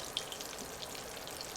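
Keto chicken tenders submerged in frying oil at around 315 degrees, giving a soft, steady sizzle dotted with tiny pops, faint and without talk.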